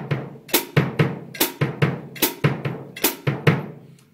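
A samba bass drum and foot ostinato is played on a drum kit: about a dozen punchy, close, dry strikes in a steady syncopated pattern, with no talking.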